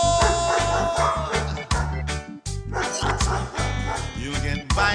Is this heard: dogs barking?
yes